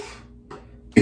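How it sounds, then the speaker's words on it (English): A man coughs after splashing on aftershave mist during a shave, a few short close coughs followed by a louder burst at the end. "Always makes me cough."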